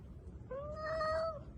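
A single drawn-out cat meow, clear and fairly close, rising slightly and then trailing off, with low background rumble.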